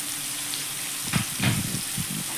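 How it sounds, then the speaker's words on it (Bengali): Chopped mango pieces and fried spices sizzle in hot oil on low heat for a tangy spicy pickle, a soft, continuous crackle with a few louder bursts as the pieces are stirred in the pan. "আমগুলোকে দেখো এবার কিন্তু তেলের মধ্যে নাড়াচাড়া করতে হবে"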